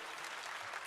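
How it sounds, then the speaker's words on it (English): Audience applause at a Devcon SEA mainstage talk, a steady wash of clapping from the crowd with no pauses for the full moment. "yay, clap for Viper"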